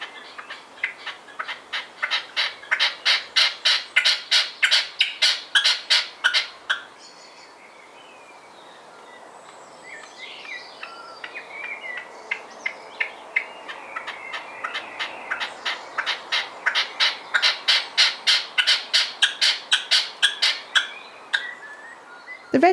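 Repeated harsh, rhythmic calls from a red-legged partridge in a Hampshire garden, coming in long runs of evenly spaced, fairly loud notes separated by a brief lull of quieter background birdsong.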